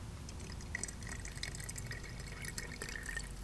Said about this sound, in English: so when you add water, you want to bring it just to the bottom